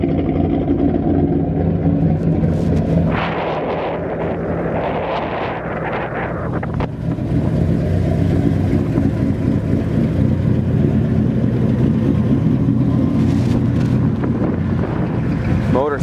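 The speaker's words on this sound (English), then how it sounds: "Motor sounds really nice." The 514 big-block V8 of a 1974 Ford F250 crew cab 4x4 truck idles steadily with a low, throbbing rumble, while gusts of wind buffet the microphone throughout.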